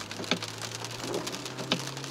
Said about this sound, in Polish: Jakiś tam deszcz.